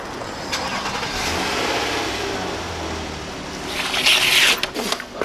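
Car engine turning over and catching, then revving up in a loud, close surge near the end before dropping back to idle.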